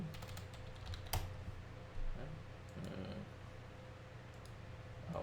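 Typing on a computer keyboard: a short run of quick, light key clicks close by, with a couple of sharper taps, over a faint steady hum and no talking.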